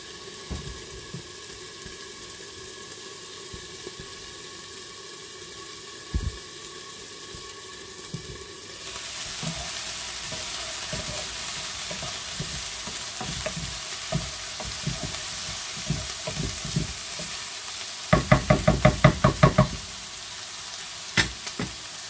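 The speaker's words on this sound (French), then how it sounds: "Donc là je vais laisser dorer, je vais mélanger entre deux" Rabbit pieces brown in a pan with a continuous close sizzle that grows louder midway, punctuated by occasional scraping stirs and a brief burst of rapid clatter near the end.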